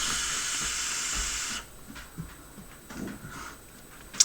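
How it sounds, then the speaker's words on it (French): A long draw on an e-cigarette loaded with VGOD e-liquid gives a steady airy hiss for about a second and a half, then quiet room tone with faint small noises. "Sincèrement, j'ai une bonne vapeur."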